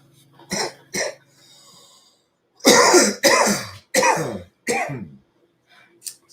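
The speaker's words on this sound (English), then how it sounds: "Still doesn't stop me from coughing something." Several harsh coughs and throat-clearing bursts from a man after smoking, close to the microphone, with two short coughs, a pause, then four loud hacking coughs in a row.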